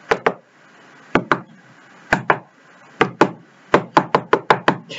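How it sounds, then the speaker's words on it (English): A door knocks and bangs in short irregular bursts, often in quick pairs, then a rapid run of sharp knocks near the end, loud and close with quiet between. "this door is winding me up the wall because every time I do something, all I hear is this sound"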